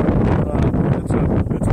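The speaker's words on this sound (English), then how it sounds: "even though it's windy as hell right now," Strong wind buffets the microphone in a constant, loud rumbling roar with gusty fluctuations throughout.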